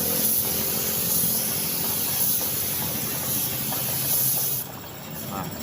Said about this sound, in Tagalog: ito nga is spray na natin to ulit.